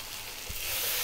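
Tomato paste frying over a lively heat in a pot, giving a steady hissing sizzle with one soft low bump midway, rising slightly in loudness toward the end.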